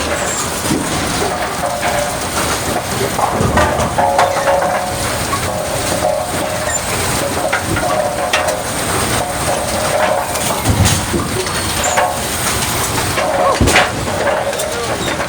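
Brunswick A/A2 fully mechanical bowling pinsetters running in a retro bowling alley, with a steady loud mechanical clatter and rattling throughout, sharp crashes of pins breaking out now and then, and voices talking faintly in the background.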